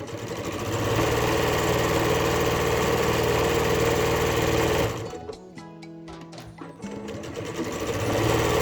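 A sewing machine stitches three layers of fabric for an iPad pouch, its motor whirring steadily and loudly, pausing briefly partway through, then starting up again.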